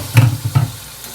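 Spice paste hits a hot pan as a little water is poured in while cooking papaya ghanto with mung dal, giving two short sizzling bursts with a brief stir between them.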